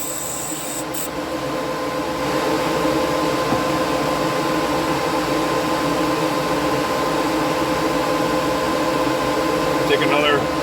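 An airbrush sprays Outlaw Paints onto a model car chassis, a steady close hiss that starts after a brief quieter moment and then runs continuously, with faint handling noises and voices in the background.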